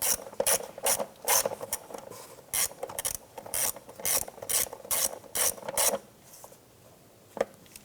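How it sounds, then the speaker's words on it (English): A ratchet snugs down valve cover bolts on a 2007-2012 Nissan Versa, with loud, close bursts of rapid clicking in repeated strokes that stop abruptly near the end and leave a quieter pause. "And let's go ahead and snug those down."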